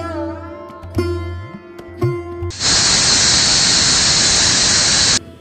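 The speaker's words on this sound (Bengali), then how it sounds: "এবার প্রেসার কুকারের ঢাকনাটা বন্ধ করে ফ্লেমটাকে হাই করে একটা সিটি দিয়ে নেব।" A pressure cooker on a high flame, cooking Bengali mutton stew, gives a wavering tonal whistle, then a loud, steady blast of hissing steam for several seconds before cutting off.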